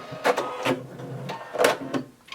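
A sewing machine back stitches the end of a maxi dress seam in a few short, close mechanical bursts separated by brief pauses.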